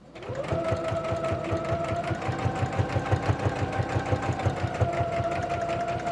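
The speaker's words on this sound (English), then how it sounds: "we're going to stop at that fabric join, back stitch, forward stitch, and remove the needle" A sewing machine stitches lined kitchen curtain fabric with a steady, rapid mechanical whir and rhythmic needle clatter, running continuously and close up with no talking.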